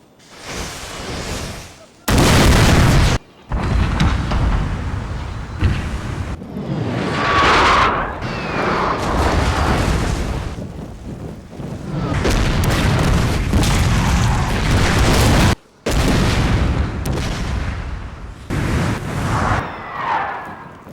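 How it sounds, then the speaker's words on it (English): Artillery bombardment in a Total War battle game set in the British invasion of Sudan: sustained loud booming and blasts roll on continuously, with heavy low rumble and several sharp, very loud bursts. "In the morning, the British began the bombardment."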